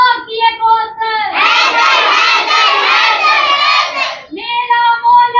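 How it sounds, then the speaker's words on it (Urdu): A crowd loudly chants a name in unison in reply to a woman's religious slogan, a sustained roar of many voices at a gathering, with her solo calls heard before and after. "میرے نعرے کے جواب میں 4 مرتبہ کہنا ہے حیدر حیدر حیدر"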